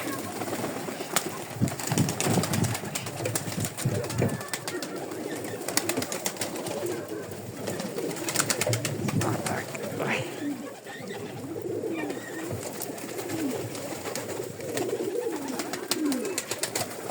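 Domestic pigeons, including Nuremberg and German miniature breeds, cooing repeatedly in a coop, with soft throaty calls close by, occasional wing flaps, and someone speaking quietly among them.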